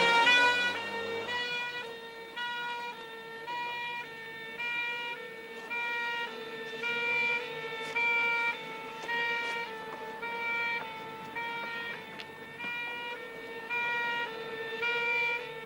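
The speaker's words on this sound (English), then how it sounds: "Ambulance is just away." An ambulance siren wails steadily in a repeating two-tone pattern, loud and close, holding for the full length with no talking.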